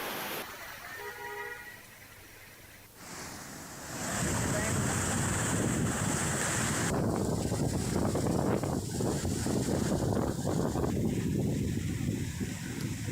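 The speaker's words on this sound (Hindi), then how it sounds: "लठिया नाला पूरी तेजी से बह रहा है" Swollen Lathiya stream rushing fast after torrential rain, a loud broadband roar of churning water that swells after a quieter start and stays heavy and continuous, with some wind buffeting.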